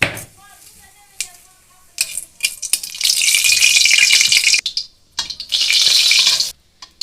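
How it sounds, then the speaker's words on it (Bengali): Fennel seeds fry in hot oil for a raw mango chutney, a loud crackling sizzle that swells in two long bursts between quieter pauses and clinks of utensils. "মুহুরিটা হালকা ভাজা হয়ে গেছে"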